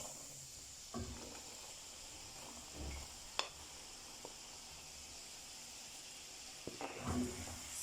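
Coated peanuts fry in oil with a steady, faint sizzling hiss, broken by a few soft clicks and knocks from stirring.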